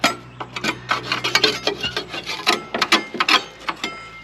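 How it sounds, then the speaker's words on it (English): A hand paint scraper rasps steadily across painted metal around the discharge chute mount of a Toro TimeCutter mower, dozens of quick, close scraping strokes in an uneven rhythm with no talking. "We're just going to take our paint scraper and clean this area out."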